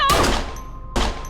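Gunfire in a school bathroom in the game Life is Strange, where a man shoots a girl: two loud, sharp shots about a second apart, each followed by a short ringing decay.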